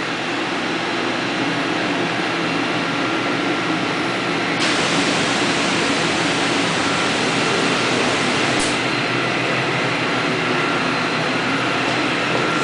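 A DMG Deckel Maho DMU 50 Evolution CNC milling machine runs under power during a final test before de-installation, giving a loud, steady broadband whir and hiss that turns brighter partway through, with a brief click near the end and no talking.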